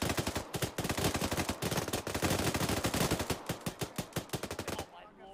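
Rapid automatic gunfire rattles in a military simulation game, a long, loud, evenly spaced stream of shots that stops abruptly.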